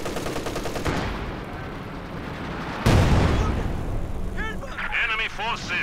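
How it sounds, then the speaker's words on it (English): An artillery barrage in the video game Company of Heroes 2: rapid cracking fire gives way to a heavy booming impact, then rumbling explosions with whistling shells, all dense and loud under game voices. "This barrage coming in."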